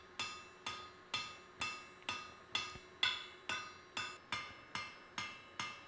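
A hammer forges down the outside of a replica Sutton Hoo axehammer in a steady series of about a dozen sharp metallic blows. Each strike rings briefly, evenly spaced roughly every half second, close and clear with no talking.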